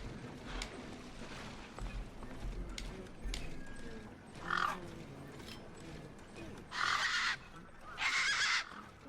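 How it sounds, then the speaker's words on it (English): Desert birds in the video game Beyond a Steel Sky give several loud, harsh honking calls in short bursts near the end, over a low game soundscape with faint thuds. "These were tough desert birds."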